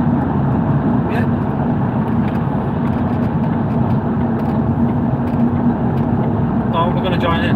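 A car drives home from London with a steady, loud engine and road rumble filling the cabin; voices seem to be present beneath the drone.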